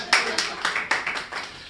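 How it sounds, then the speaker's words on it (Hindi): Several distinct handclaps ring out in a quick, uneven rhythm from the crowd at a Hindi kavi sammelan poetry gathering, fairly close and loud, with no talking over them. "आपकी तालियां उठनी चाहिए"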